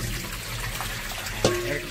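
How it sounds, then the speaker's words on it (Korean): Cold tap water runs steadily over beef for seaweed soup, a close, even splash and trickle with a brief slosh near the end. "소고기도 요 찬물에 한번 헹궈서 뭐 썰이는 과정에도 먼지가 있고 이럴 테니까 핏물도 빠질 겸 해서 여기 찬물에 그냥 한번 헹궈줄게요."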